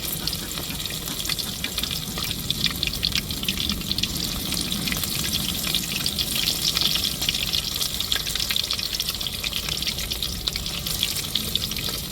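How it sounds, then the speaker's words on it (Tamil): Chicken lollipops dropped into hot oil fry with a steady, dense, loud sizzle that holds without a break throughout, close to the pan. "இப்போ எண்ணெய் சூடேறிட்டு நம்ம ஒன்று ஒன்றா போட்டு விட்ருவோம்"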